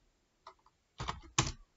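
Someone types on a computer keyboard during a PHP coding lesson, a faint single click followed by two short, close bursts of rapid key taps in an otherwise quiet room.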